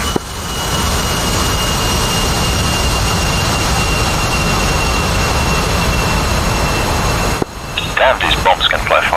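A jet aircraft launching from runway 08 in the DCS World flight simulator, a steady loud roaring engine drone with a high whine, cutting off abruptly near the end as speech-like radio sounds take over.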